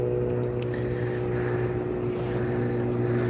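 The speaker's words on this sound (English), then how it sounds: "Looks like a little tugboat." A steady low engine drone from a small tugboat passing on the Toronto waterfront, with a constant hum and faint higher tones, moderately distant and even throughout.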